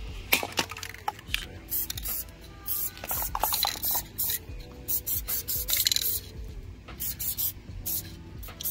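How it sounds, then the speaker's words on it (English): A rag wiping excess protectant off a motorcycle's fork and handlebar surfaces, close, quick squeaky rubbing strokes in short uneven bursts with no voice. "Take a rag and take off the excess."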